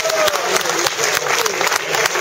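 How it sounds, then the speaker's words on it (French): Applause from the crowd at the Paris–Nice 2015 cycling podium in Vence, dense continuous clapping close and loud throughout, with sharp individual claps standing out. "les applaudissements du public de Vence"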